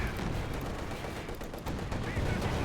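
A field gun fires repeatedly amid the busy, dense battle din of the World War II strategy game Company of Heroes 2, with muffled blasts and gunfire under a constant roar.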